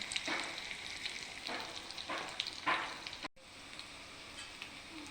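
Fish pieces frying in oil in a pan for fish pickle, a soft continuous sizzle with a few louder crackling bursts as pieces are turned, close and without talk.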